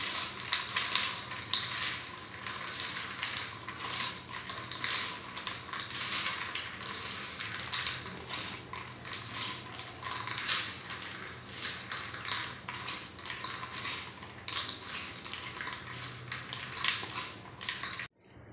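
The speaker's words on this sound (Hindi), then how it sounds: "डालेंगे फ्राई किया हुआ साबूदाना। इसे भी हम फटाफट से मिक्स करेंगे।" Fried sago pearls (sabudana) stirred quickly into a snack mix in a bowl, giving a continuous crisp, rattling crunch with rapid scraping strokes throughout, no voices.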